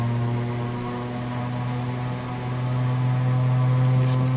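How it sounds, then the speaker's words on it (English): Propellers of a Beechcraft Duke turboprop speed up on the ground before takeoff at night in Sweden, a loud, steady engine drone with strong low tonal hum that holds close and continuous without speech. "propellers can be sped up"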